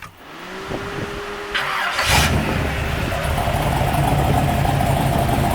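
A 1973 big block Corvette engine turns over on a new mini starter with a brief whirring crank, then fires and settles into a loud, rough, close idle that continues steadily.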